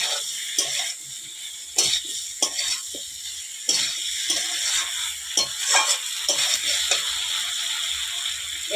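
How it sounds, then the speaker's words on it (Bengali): Spice paste loosened with a little water fries in a pan under a constant close sizzle, broken by repeated scraping stirs at an uneven pace. "অল্প করে একটু জল দিয়ে কষতে থাকবো মশলাটা"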